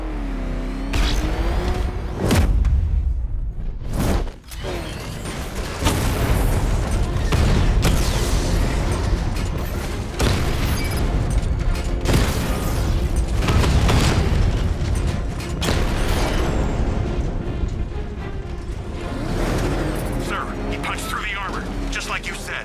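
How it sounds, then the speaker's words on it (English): Heavy booming cannon shots and rolling explosions from the Batmobile's 60mm tank cannon in the video game Batman: Arkham Knight, dense and loud throughout, with mechanical clanks and game voices talking over the combat. "Your 60mm cannon will penetrate these heavily armored units, but it'll take a few direct hits to destroy them."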